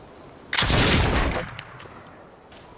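Gunshots in a scene from the TV drama Outlander: one sharp loud blast with a roaring, echoing tail that fades over about a second, followed by quieter ambience.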